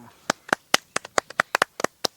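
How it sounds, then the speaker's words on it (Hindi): A handful of wedding guests clap after the bride and groom exchange garlands. Around a dozen crisp, close hand claps come in an uneven, unsynchronised rhythm with short gaps between them. "सब जने ताली बजाए।"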